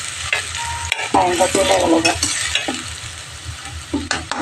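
Sliced onions frying in oil for beresta, crisp fried onion for a small batch of haleem, crackle and sizzle steadily up close while a spoon or spatula stirs and scrapes the pan in irregular bursts; a brief voice is heard.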